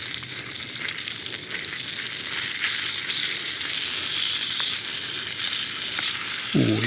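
Pigs in blankets, sausages wrapped in bacon, fry loudly on a camping stove with a steady close sizzle throughout and a brief clatter at the end as they are turned.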